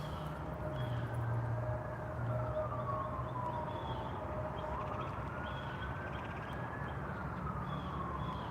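An emergency vehicle siren from first responders wails faintly in the distance, slowly rising and falling in long sweeps over steady outdoor ambience by a railway at sunset.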